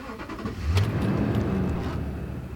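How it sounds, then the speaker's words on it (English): A Toyota Tundra V8 with over 215,000 miles runs smoothly, a steady low purr with a slight swell in engine note partway through, heard fairly close with no talking. "it really doesn't sound like anything but an engine purring along"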